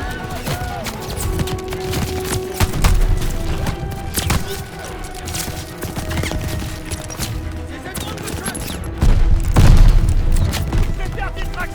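Gunfire and booming explosions from a World War II battle in Call of Duty: Vanguard, with dense overlapping shots and heavy low blasts that swell around the third and tenth seconds, under steady battlefield din.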